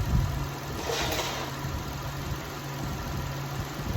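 A 2004 Toyota Sienna engine idles steadily, running without antifreeze in a garage, a low continuous hum with a faint steady drone throughout and a brief higher swish near the start.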